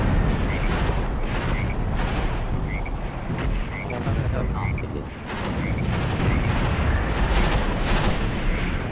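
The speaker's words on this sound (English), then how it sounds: "Look at those explosions." Heavy battlefield explosions and artillery blasts in a South African 1980 tank battle, a dense continuous barrage of loud booms and rumbling bursts with someone talking over it.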